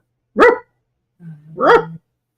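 A dog barks twice close by, a sharp single bark followed after a pause by a low growly lead-in and a second loud bark, with silence between.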